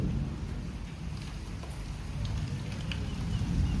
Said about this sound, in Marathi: पाऊस बघा भरलाय कसा